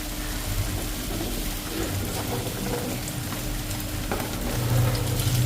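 Malpua batter fries in a generous pool of oil with a steady, close crackling sizzle that swells slightly louder toward the end, with a low hum underneath and no voices.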